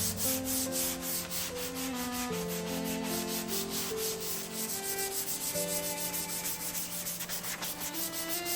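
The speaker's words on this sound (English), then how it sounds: "The foam pads conform to the profiles and contours, letting me sand all these details without causing any damage." Foam sanding pads rub steadily across a 100-year-old painted antique wooden table, a continuous close scratching hiss under background music.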